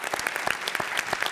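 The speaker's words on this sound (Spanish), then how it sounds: "un aplauso para él." Brief burst of clapping from a live television studio audience welcoming a panelist, loud and close, a quick stretch of many hands with no talk over it.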